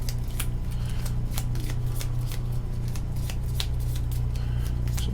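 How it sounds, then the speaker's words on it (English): Cards from the Hellboy board game are shuffled close by in a run of quick riffling bursts, repeated crisp flutters over a low steady hum. "So we shuffle this up real good because I haven't shuffled them before"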